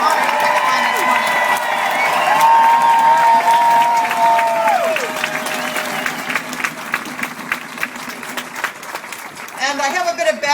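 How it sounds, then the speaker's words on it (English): A crowd at an outdoor labour rally supporting a picket line claps and cheers loudly, with whoops and shouts over the applause, a sustained roar that thins into scattered clapping and voices. "I want you to give a big round of applause for everybody honoring the picket line this morning."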